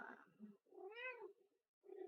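A pet cat gives one clear, close meow with a rising-then-falling tone, framed by brief soft rustling in a quiet room.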